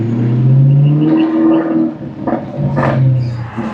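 Up close, a Maserati GranTurismo S with a custom megaphone test-pipe exhaust and tune revs in a few loud rising blips, its deep exhaust note swelling and dropping back to idle.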